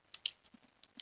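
Fingers tapping out a firewall command on a computer keyboard, a handful of light, quiet keystrokes in an uneven rhythm with brief pauses between them.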